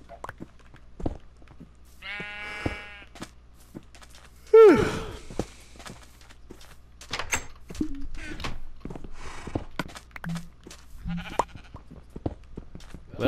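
A Minecraft sheep gives a few brief bleats amid sparse footsteps and scattered game sounds, with a sigh-like gasp partway through.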